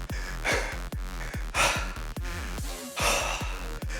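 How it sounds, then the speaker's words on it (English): Heavy, rhythmic breathing after a bodyweight home workout, deep gasping inhales and exhales repeating every half second or so, close and loud with no other sound. "Look at this breathing, look at this heart rate."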